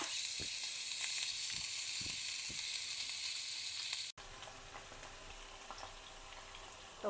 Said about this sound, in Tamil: இப்போ ஃப்ரை பண்ணலாம் சிக்கனை